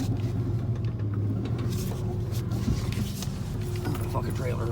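An old green truck engine pulls a trailer in low range, a low, steady rumble with a faint whine on top, heard close and unhurried.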